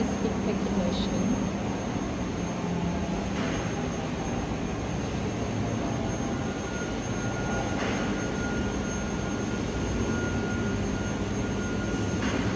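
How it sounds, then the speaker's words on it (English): A continuous-motion high-speed packing machine runs in a factory, giving a constant loud broadband roar and hum with faint tonal whines and no break in the noise. "This side is the continuous motion high-speed packing machine."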